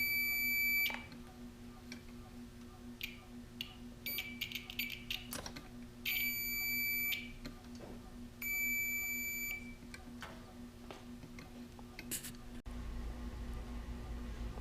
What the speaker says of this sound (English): Let's make a continuity test to make sure that what we just did is actually working.